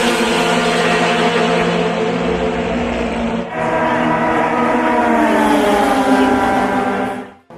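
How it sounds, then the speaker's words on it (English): Mazda race cars with rotary engines scream past on the Fuji Speedway track in Japan, a loud, high, buzzing whine that rises and shifts as the cars pass close by, then cuts off sharply at the end. "there is some running going on by some very special Mazdas, all of which have a rotary engine"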